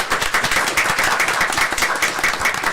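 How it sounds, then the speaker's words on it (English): A room full of people at a city commission meeting claps steadily, a dense even round of applause with individual hand claps standing out close by, heard alone without talk. "a round of applause"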